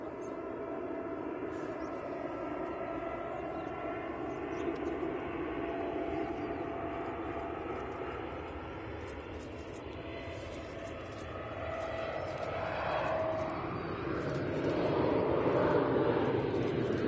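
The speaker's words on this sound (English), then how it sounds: "I'm glad you all enjoyed the A380 departure" An Airbus A380 jet departing Manchester Airport roars in a sustained, broad engine rumble that swells slowly as it passes, heard from a distance with faint wind over the microphone.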